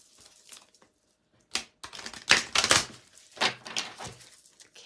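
Crisp papery riffling bursts in two or three quick runs, like cards being shuffled close by, with quiet gaps between them and no talking.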